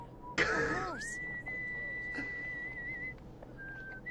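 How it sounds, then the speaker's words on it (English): In an animated Cowboy Bebop scene, a person whistles: a brief noisy burst, then one long held whistled note and a shorter one after a pause, fairly quiet against a faint background. "Is he just whistling that?"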